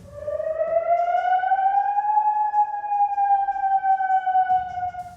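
A wailing air-raid siren sounds during Iranian missile strikes, one long, loud, rising and slowly falling tone with strong harmonics that carries on through the whole stretch with no talk.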